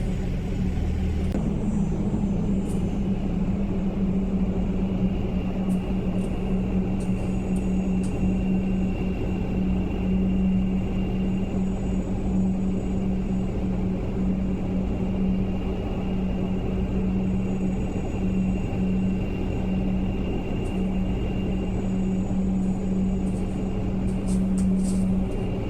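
A C-130 aircraft taxis in X-Plane 11, its turboprop engines holding a steady, droning hum with a strong low tone that runs evenly throughout, with no voices and only faint clicks over the top.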